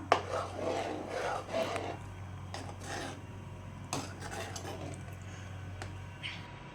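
A utensil scrapes and clatters against a pan while eggplant and potato curry is stirred, in irregular rubbing strokes close up over a low steady hum.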